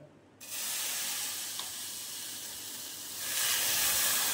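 Water poured onto sugar heating in a pan for syrup sets off a sudden hiss that holds steady as a bright, close sizzle and swells louder near the end, with no voices.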